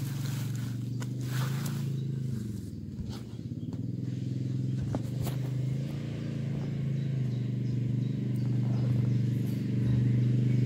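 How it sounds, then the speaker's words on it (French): A quad bike approaches on the GR 65 pilgrimage trail, its steady, droning engine growing slightly louder over the whole stretch, with faint rustling and footsteps nearby. "J'entends le quad arriver."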